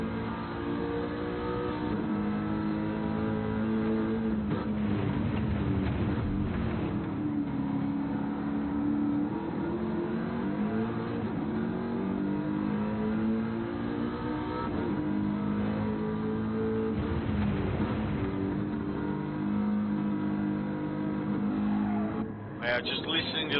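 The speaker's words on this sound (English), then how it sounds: "Just listening to the roar of that Mustang, you can tell it's got some top end" Ford Mustang V8 Supercar racing on track, engine roaring and revving through gear changes at a distance, rising and falling as the car passes, with commentators talking over it.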